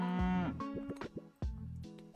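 A cow mooing in the Super Auto Pets video game: a close, loud cartoon moo with a rising then falling pitch, followed by a short burst of game chimes and a second, lower moo.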